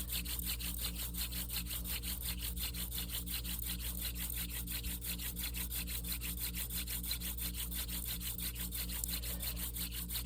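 A wooden bushcraft hand drill spun between the palms for a friction fire, a fast regular rubbing rhythm of back-and-forth strokes grinding against a wooden board, close, steady and continuous throughout, with no voices.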